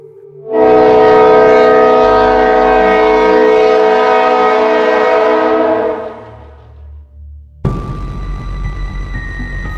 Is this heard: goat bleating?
no